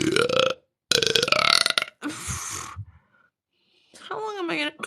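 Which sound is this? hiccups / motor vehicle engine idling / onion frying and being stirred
hiccups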